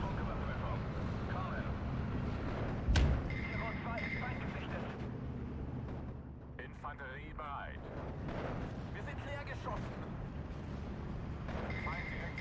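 50mm mortar fire in a Steel Division 2 wartime campaign battle near Tiraspol: one deep, loud thump stands out early, followed by scattered distant bangs and rumbling over a continuous battlefield background.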